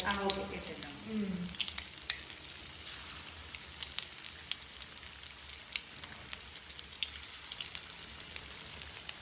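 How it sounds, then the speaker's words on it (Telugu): Onions fry in a pan with a continuous crackling sizzle and scattered sharp pops, close and steady, after a brief voice at the start. "ఇవి కొంచెం బ్రౌన్ కలర్ వచ్చే వరకు మనం కొంచెం ఫ్రై చేసుకోవాలి"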